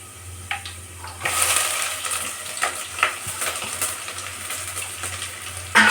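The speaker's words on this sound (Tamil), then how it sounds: "இந்த இஞ்சி பூண்டு நறுக்கி வச்சுருக்கோம்ல, இதை போட்டு வதக்கிக்கணும்" Steady loud sizzling of chopped ginger and garlic frying in hot oil for chicken gravy, with intermittent scraping and stirring clatter against the pan.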